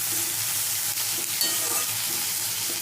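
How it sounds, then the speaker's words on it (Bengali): Okra sizzling as it fries in a pan with a little salt and turmeric, a steady close hiss with faint stirring clicks throughout, no voices. "এবার ভেন্ডিটা লাল করে ভেজে নেব।"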